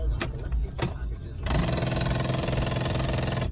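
An engine catches at about 1.5 seconds and settles into a steady, loud running drone, after a couple of brief clicks and a low hum, with a person talking nearby.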